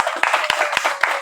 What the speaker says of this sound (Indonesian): terima kasih, tepuk tangan luar biasa